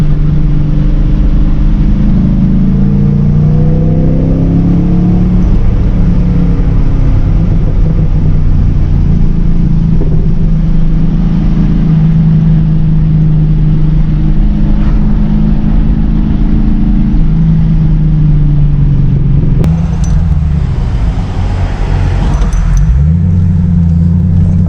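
Car engine, heard from inside while driving, a loud steady low rumble with gradual rises in pitch as it revs and accelerates, then a brief drop and surge near the end.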